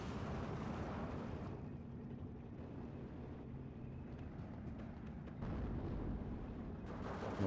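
Rumbling booms of 81mm mortar fire and explosions in a war strategy video game, dull and continuous at moderate distance with no voices.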